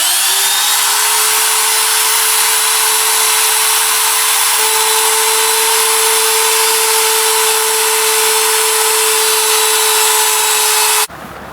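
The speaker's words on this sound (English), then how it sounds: "now I'm straight lining the edge with this trim router on a straight" Trim router straight-lining the edge of a planed dulcimer board against a straight edge, one loud steady high whine running for about eleven seconds and then cutting off.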